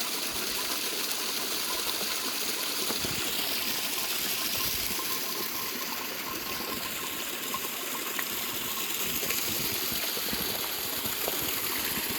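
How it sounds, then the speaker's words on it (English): Water runs through a standard-size Sawyer filter outdoors on a Snowdon summit hike in Wales, a steady, even rushing wash that carries on without a break and with no talk. "Here we are, water purifying, filtering with a Sawyer, not Sawyer Mini though, that's the normal one"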